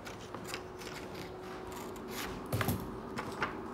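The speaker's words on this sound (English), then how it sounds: "We're going to take our scissor and we're going to cut this way." Scissors snip through paper to cut out triangle shapes, giving a few small close clicks and crunches, with a louder cluster of cuts near the end over a faint steady background.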